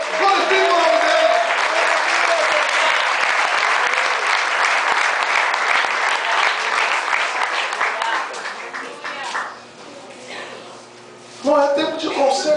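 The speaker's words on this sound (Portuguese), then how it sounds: "Se você crê, dê um aplauso ao Senhor, glorifique o nome dEle" A church camp congregation bursts into loud, sustained applause that fills the room, fades toward the end, then swells briefly again. A voice speaks over the clapping.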